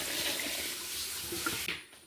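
Water pours in a steady, close rush into a cooking pot of colocasia stems, then stops abruptly near the end.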